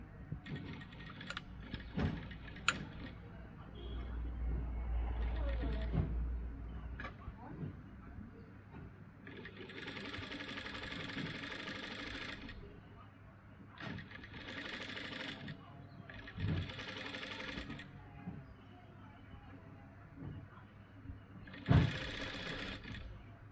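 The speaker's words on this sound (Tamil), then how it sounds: "இப்போ வந்து நாங்கள் கலப்பு தைப்போம்." Sewing machine stitching seams on tailoring orders, running in several quick bursts with pauses between them, the whir rising and falling close by, plus small clicks and handling noises; a low hum sits underneath and soft talk comes through at times.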